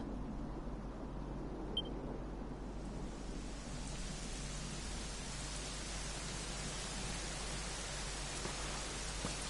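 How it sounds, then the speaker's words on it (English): Steady, even rain hiss from Dragon Quest XI fills the whole stretch, a dense wash of falling drops with no other sounds. "it was raining like this the last time I ever saw her."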